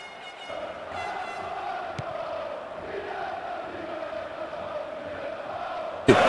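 Steady stadium crowd roar from a football video game, Bomba Patch on PS2, a continuous dense murmur of fans chanting at a Brazilian league match, holding level throughout with a brief sharp burst at the very end.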